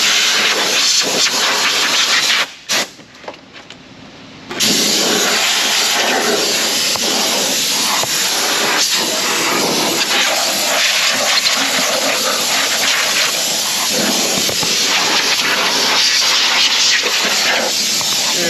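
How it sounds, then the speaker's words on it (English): Compressed air blasts loudly into a car engine bay on a Toyota 2GR-FE 3.5L V6, clearing out plant debris with a steady broadband hiss that cuts off briefly for about two seconds, then resumes and roars on continuously. "Blow it out with some air."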